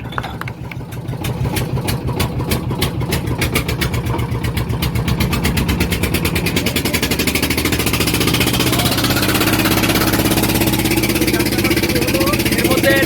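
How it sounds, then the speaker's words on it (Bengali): Engine of a passenger launch boat from Dhaka arriving at a river ghat, a steady low rumbling drone that builds and holds loud throughout, with some rhythmic chugging early on and a voice or two mixed in. "ঢাকার লঞ্চ চলে আসছে"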